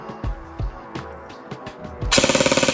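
Echo1 AK-74 airsoft electric gun with a 12-year-old version 3 gearbox, test-fired on an 11.1 V LiPo battery: a few close knocks and clicks of handling, then a short, loud, rapid full-auto burst of mechanical cycling at the end.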